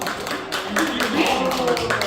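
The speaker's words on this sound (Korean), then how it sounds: "박수" Residents and volunteers at a nursing hospital recreation session clap together after a magic act, a lively spatter of close handclaps mixed with excited voices and cheers throughout.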